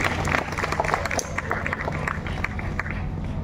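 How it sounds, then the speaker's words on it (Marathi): A crowd at a stage event claps together in a dense, steady round of welcoming applause that carries on throughout without a break. "आपण त्यांचं टाळ्या वाजवून स्वागत करू तिथे"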